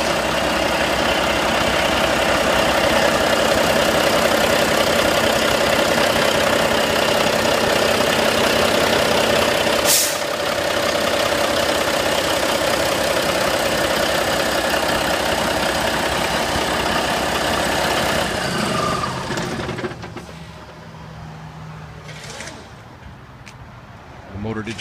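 A 2012 Volvo VNL64T300 day cab truck's diesel engine idles steadily with a loud, constant rumble, then cuts out near the end as the motor shuts off after idling too long.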